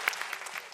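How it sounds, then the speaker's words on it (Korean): A short burst of studio audience clapping at a Korean comedy show, many hands applauding together at moderate volume. "박수 한번 주세요"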